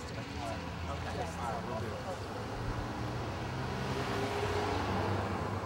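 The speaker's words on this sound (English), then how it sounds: "We just keep getting cars driving by" Cars drive past on a road at night, a steady broadband rumble of traffic with passing-vehicle swells over a low drone, while people talk nearby.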